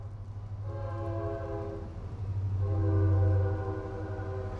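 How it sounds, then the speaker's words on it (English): A train rolls past in Georgia with a sustained horn blast that swells and fades, a low rumble underneath, moderately loud and a little distant. "I hear the train coming, which is part of living here in Georgia."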